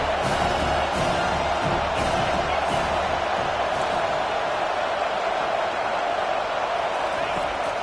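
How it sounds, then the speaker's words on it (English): A football stadium crowd roars steadily throughout as a broad, constant wash of cheering, with a commentator talking over it. "this crowd trying to help keep them there"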